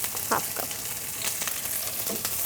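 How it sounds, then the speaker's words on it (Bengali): Onions tossed into hot oil with whole garam masala spices crackle and sizzle steadily at a soft volume, with faint stirring scrapes in the pan. "আমরা একদম গরম তেলে গোটা গরম মশলা ছেড়ে দিয়েছি। এবার দিচ্ছি পেঁয়াজ।"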